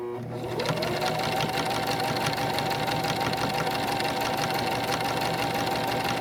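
Sewing machine running steadily while stitching a lanyard, a loud, continuous close-up mechanical whir with a fast rapid needle rhythm that never pauses.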